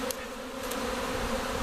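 Honey bee swarm buzzing steadily around a hive box outdoors, a continuous close-up hum of many wings with no talking.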